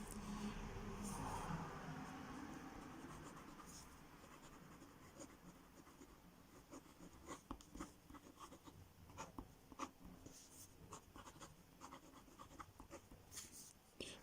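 Fine hooded fountain pen nib writing cursive on paper, a soft, quiet scratching that keeps going in short strokes, close and faint, with no voices.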